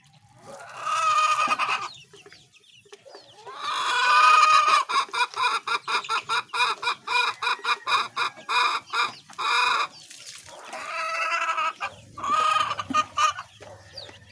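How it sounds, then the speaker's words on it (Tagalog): Backyard pet chickens cluck in a rapid, rhythmic run of close, loud calls, with a few quieter gaps and scattered squawks, while they are being given water. "nagpapainom tayo ng mga tubig para sa ating mga alagang manok pa"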